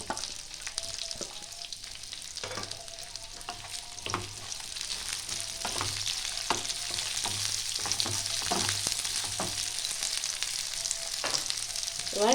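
Sliced onions, separated into petals, frying in a pan for a Bengali-style mushroom chilli, giving a steady close sizzle with occasional stirring clicks and scrapes throughout.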